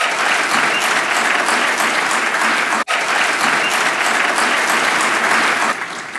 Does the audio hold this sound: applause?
yes